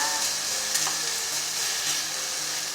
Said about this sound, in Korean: 잘 섞으면서 볶아주면서